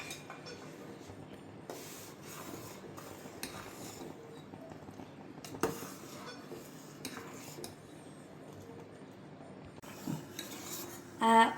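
A spoon scrapes and clinks against a pot of boiling milk and potato pudding in steady, repeated stirring strokes with occasional sharper knocks, close and moderately quiet, with no talking.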